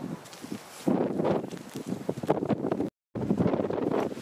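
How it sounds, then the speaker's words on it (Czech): Gusty wind buffets the microphone during a winter climb of Ben Lui, a 1130 m Grade I route, blowing from behind the climbers as a steady roar with surging gusts and a brief dropout partway through. "Nám větřík fouká dozad, tak se dobře šlape"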